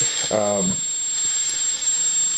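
An electric guitar played through the vintage Fuzzmaster side of a Devi Ever Rocket Mangler fuzz pedal sounds one short, buzzy fuzzed note, which fades into a steady wash of hiss and faint glitchy noise.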